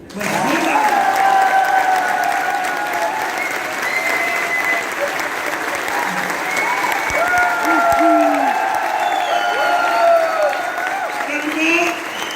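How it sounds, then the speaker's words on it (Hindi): A large audience at a grand summit in Delhi gives Mr Yogesh loud, sustained applause, a dense wash of clapping lasting over twelve seconds with voices carrying over it throughout. "एक बार जोरदार तालियां मिस्टर योगेश जी के लिए।"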